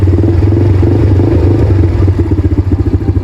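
An ATV engine revs on the throttle close by, a loud, throbbing, pulsing motor whose beat grows choppier toward the end.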